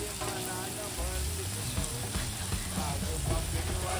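Fish, pomfret for a fish curry, fries in a pan with a dense, continuous sizzle that holds steady and close throughout, with faint clatter and low background hum beneath.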